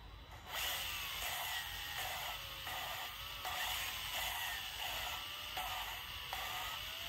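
A power drill runs steadily while lapping a valve seal during restoration of a Mitsubishi Satoh S370 tractor, giving a faint whirring drone with a grinding texture that repeats in short, regular strokes.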